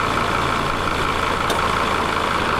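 A steady car engine rumble runs evenly throughout, close and continuous, idling; no clear start-up surge is evident.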